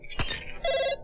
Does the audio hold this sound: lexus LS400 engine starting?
no